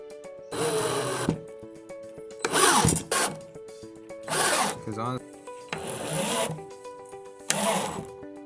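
A power drill drives four screws through a wooden deck board for an off-road scooter, each run a loud whirring burst with pauses between, separated by short gaps.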